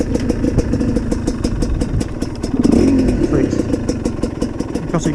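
A GPX TSE 250R trail motorcycle with a carburetor still needing tuning revs up close, its engine note rising and falling in a steady clattering rumble, with a short louder surge midway.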